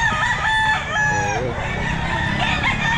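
A rooster crows loudly and close by at an outdoor pet market, one long wavering cock-a-doodle-doo followed by clucking, with crowd chatter in the background.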